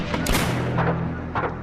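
A burst of gunfire booms out loud, with several sharp shots in quick succession followed by two more scattered reports as the echo fades.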